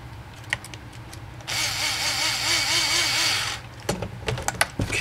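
Power driver running a nut down on a Jeep JK lower suspension link, one close whirring burst of about two seconds with rising pitch, framed by clanks and metal handling noises.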